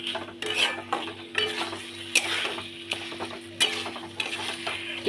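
Diced potatoes and dhaba-style chicken keema sauté in a pan, with a moderate sizzle broken by repeated spatula scrapes and stirring clatter, close and without talk.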